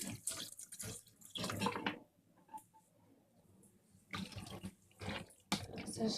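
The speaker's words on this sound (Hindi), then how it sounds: "इसमें मैं थोड़ा पानी डालूंगी।" Water poured into a pan while making Indian-style masala macaroni pasta, splashing in a few close bursts separated by quieter gaps.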